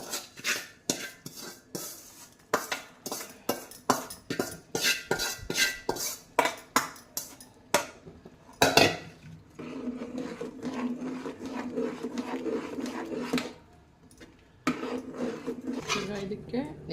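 A metal spoon scrapes and clanks repeatedly against a pot as a tempering mixture is stirred into temple-style spicy pongal, a quick rhythmic series of close knocks followed by softer rubbing stirring and a voice speaking.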